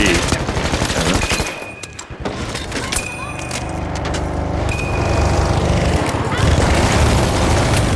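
Minigun fire in the video game The Finals, a loud continuous stream of rapid shots that breaks off briefly and resumes, layered with other game noise up close.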